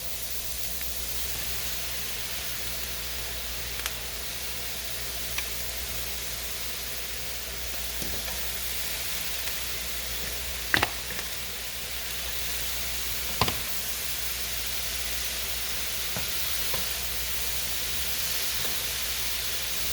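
Mushrooms fry in butter for a cheese steak, giving a steady, even sizzling hiss throughout with a few faint clicks and taps of the pan, and no voices.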